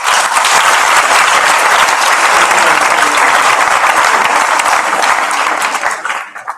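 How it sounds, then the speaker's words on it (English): Loud, sustained applause from a prizegiving audience greeting the evening's keynote speaker, dense clapping filling the hall for about six seconds before fading out quickly at the end. "A round of applause."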